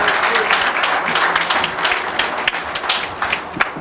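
Steady applause from a youth workers' forum audience at a Jamaica Civil Service Association event, dense and continuous clapping throughout with a few sharper claps standing out near the end.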